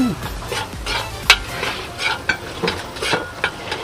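Garlic frying in oil in a pan for taro rice, a steady sizzle with repeated scraping stirs and a sharp clack of a utensil against the pan.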